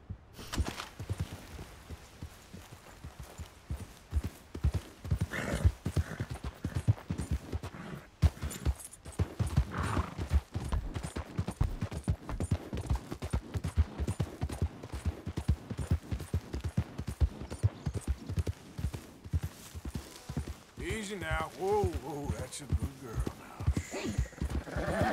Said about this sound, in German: Also, reiten wir zu Pferd hin, nicht zu Fuß.